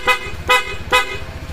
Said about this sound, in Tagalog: At syempre yung kanyang busina.